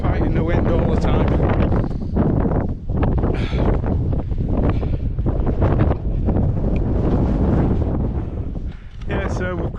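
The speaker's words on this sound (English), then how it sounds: "you're fighting the wind all the time" Strong wind buffets the microphone on an exposed hillside along Hadrian's Wall at Walltown Crags, roaring in constant heavy gusts throughout while someone talks over it.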